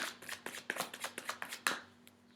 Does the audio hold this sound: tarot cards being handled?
yes